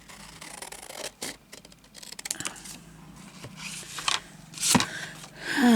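Scissors snip through embroidery fabric in several short, uneven cuts, close and fairly quiet, with light rustling of the cloth between snips.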